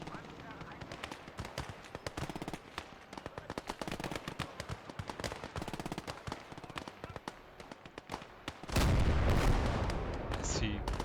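A tank fires a high-explosive round amid the gunfire of a World War II battle in the game Gates of Hell. Rapid crackling shots run under talk, then a heavy deep blast rumbles on and fades.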